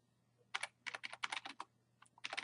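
Quick bursts of keystrokes on a computer keyboard as a line of Python code is typed, close and clear, with short pauses between clusters of key presses and no talking.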